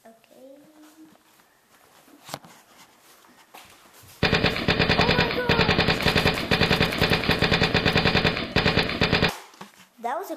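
Sustained automatic gunfire in the video game Left 4 Dead, a loud dense rattle lasting about five seconds and then stopping abruptly, preceded by quieter game sounds and a single shot, with players talking around it.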